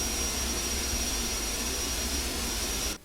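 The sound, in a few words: aircraft jet engine in FSX flight simulator, video game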